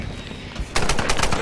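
Rapid automatic gunfire in a Tomb Raider multiplayer duel: after a brief lull of game ambience, a quick loud burst of repeated shots fires in steady rhythm.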